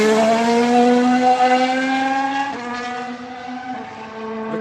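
A Racing Point Formula 1 car on a flying lap after a restart screams past, its high engine note climbing steadily, then dropping sharply as it shifts, loud and close, with no voices.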